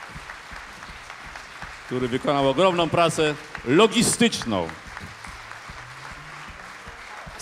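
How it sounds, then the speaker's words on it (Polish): Applause from the audience at a 2008 jubilee concert, a steady wash of clapping running beneath someone speaking over a microphone. "Duże brawa"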